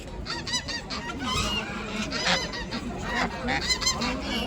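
A flock of geese honking repeatedly and loudly at a poultry market, overlapping calls forming a continuous noisy chorus close by.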